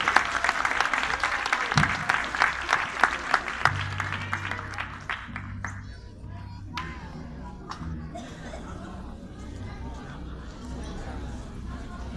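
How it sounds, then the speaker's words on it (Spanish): An audience at a Christian music performance claps loudly for several seconds, the applause fading out as a voice begins speaking and murmuring continues. "Y el aplauso espontáneo del público presente."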